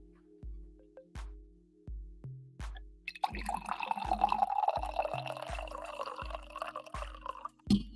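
Liquid pours steadily for about four seconds, a dense splashing stream over a repeating rhythmic pattern of soft tones that continues before and after.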